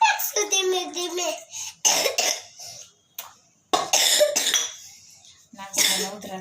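A young girl with a bad cough at home coughs in short bursts, mixed with a child's speech and some giggling, close to the recording.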